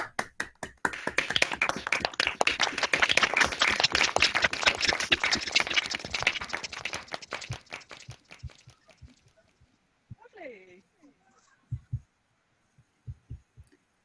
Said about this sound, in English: I now would like to warmly invite you to unmute and clap and cheer your fellow students.